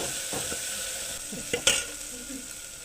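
Garlic paste sizzling in hot oil in a pan while a spoon stirs it, with a steady fry hiss and a few sharp scrapes and clinks against the pan.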